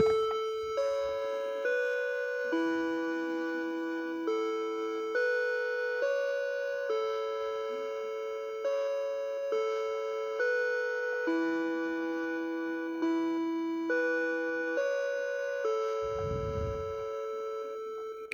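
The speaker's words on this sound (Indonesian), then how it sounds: "1 itu melodi Westminster, bunyinya seperti ini." A Seiko wall clock chimes the Westminster melody in a room, as a steady sequence of clear bell-like tones in four-note phrases that ring and decay evenly with no voices.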